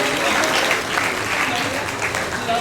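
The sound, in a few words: applause for a student at a school award ceremony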